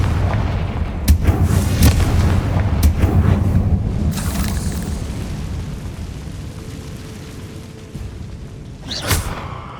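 Confringo spell explosions in Hogwarts Legacy on PS5, several loud booming blasts with sharp cracks early on, then a rumbling fade and one more burst near the end.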